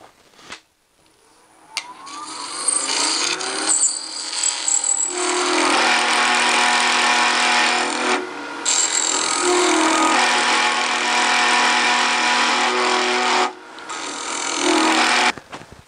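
A power tool grinds and cuts into an aluminum bar with a harsh, loud, sustained whine and metallic ringing overtones, broken by a few brief dips as the cut pauses.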